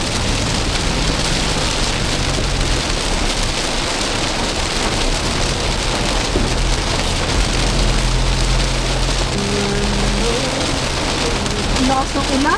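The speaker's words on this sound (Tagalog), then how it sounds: "lakas ng ulan." Heavy rain pours down in a dense, unbroken roar that fills the whole scene, with a low rumble underneath and faint voices in the background.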